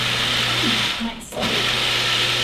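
Blender running on walnut pesto pâté makes a loud, steady motor whir with a brief dip in pitch as it labours in the middle, while a person talks over it.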